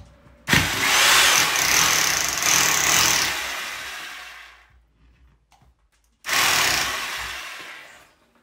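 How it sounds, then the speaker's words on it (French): Power drill fitted with a 5 mm bit boring through a wooden plank, a loud, close whirring burst of about four seconds that tapers off, then a second short burst after a pause. "Maintenant, je perce avec la mèche de 5. C'est du beurre parce que c'est une planche de bois."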